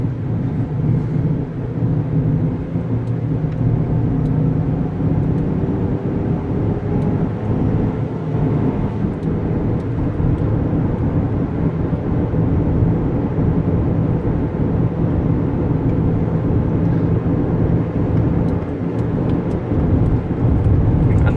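A 2011 Honda Pilot's engine drones steadily at light throttle while towing a camper, with a constant low hum and road rumble that stays loud and unbroken, no voices over it.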